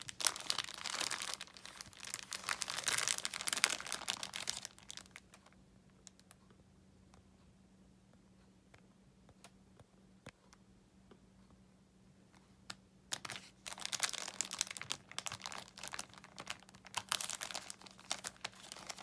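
Packaging being folded down and over around a crochet wallet: two bursts of crinkly, rustling plastic handling, close and fairly loud, separated by a quiet pause of several seconds with no talk.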